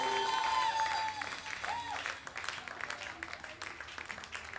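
A church congregation applauding, a dense wash of many hands clapping that swells and continues, with a voice speaking over it at the start.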